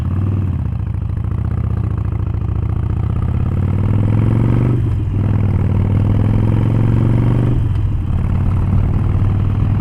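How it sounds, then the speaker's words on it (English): Wind roars steadily and loudly past a rider on a Harley motorcycle with no windshield, a deep engine rumble running underneath throughout with no talking. "the wind noise is actually quite loud"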